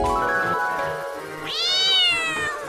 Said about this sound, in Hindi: अरे भाई देख मॉन्स्टर बिल्ली बन गया